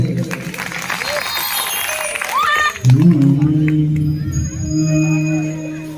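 A crowd at a Maithili stage show claps while a voice speaks over it. The applause fades as sustained musical tones take over and singing begins.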